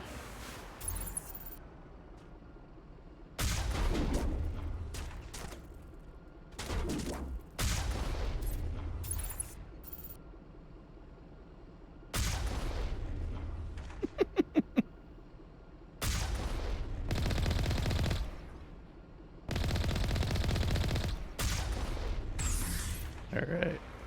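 Gunfire in Mass Effect comes in separate loud bursts of sustained shooting, broken by quieter gaps, with a short rapid volley near the middle.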